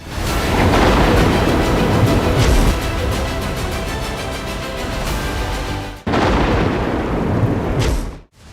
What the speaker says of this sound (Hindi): बादल फटने की आवाजें और तेज कड़कती बिजली बता रही है कि फिलहाल कुदरत का ये आक्रोश थमने वाला नहीं।